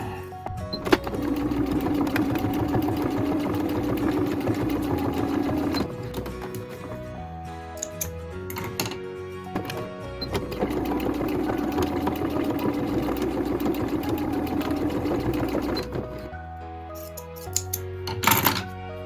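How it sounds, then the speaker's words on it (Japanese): A sewing machine stitches along the edge of a fabric handle piece for a pop-up camper roof, running in two sustained bursts of rapid mechanical whirring with a short pause between them and clicks as it stops. "さらに端をちょっと縫っておこうかな"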